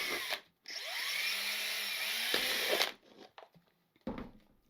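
A power drill drilling plastic whirs in a long sustained burst, stops briefly, then gives a couple of shorter spins before falling quiet.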